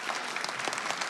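A town meeting audience in Concord applauds in a brief, dense patter of many hands. The clapping is fairly soft and even, with no voices standing out.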